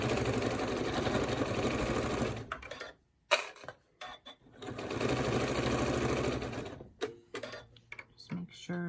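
Sewing machine stitching the seams of a fleece hooded poncho, running in two long steady bursts with a brief stop and stuttering short runs between them, close and fairly loud.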